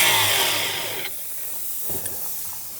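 High-pressure gas rushes out of a cut gas strut with a loud, close hiss lasting about a second before it abruptly cuts off, leaving quiet with a few faint knocks.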